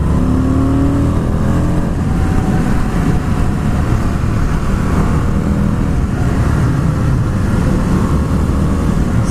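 A 2020 Indian FTR 1200 motorcycle engine pulls steadily under acceleration on a test ride, a dense continuous drone with rising harmonic tones, loud and close throughout with wind rush and no talking.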